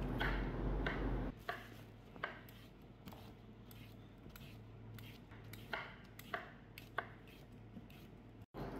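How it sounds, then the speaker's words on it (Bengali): A knife slices onions into thick pieces on a board, a series of faint, separate cutting taps at irregular intervals after a brief louder opening sound. "হালকা একটু মোটা মোটা করে আমি কয়েক পিস পেঁয়াজ স্লাইস কেটে নেব"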